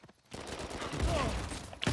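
Dense video game gunfire rattles in a continuous burst after a brief quiet start, loud and sustained, ending with a sharp final report.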